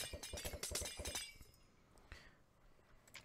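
Glass breaking in the block-building game Sky Wars, a rapid burst of loud shattering clinks for about a second, then fading to a few faint scattered chinks.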